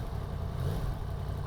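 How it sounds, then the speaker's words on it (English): A Yamaha MT-10 motorcycle engine idles and revs faintly under ever-so-slight throttle, a steady, close, low mechanical rumble with a brief swell in the middle. "I'm giving it ever so slight throttle on there, and it's revving"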